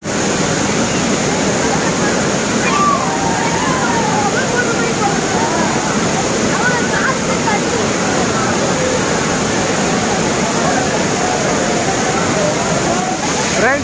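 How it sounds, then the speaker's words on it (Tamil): Water pours steadily down the Courtallam waterfall, a dense, even roar of rushing water filling the whole scene, with voices faintly heard beneath it. "தண்ணி எவ்வளோ அழகாக வருதுன்னு"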